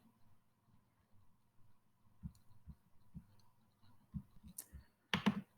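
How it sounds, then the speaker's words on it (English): A computer mouse gives soft, close clicks and taps in an irregular run, ending in a slightly louder cluster of clicks against a quiet background. "And click on open."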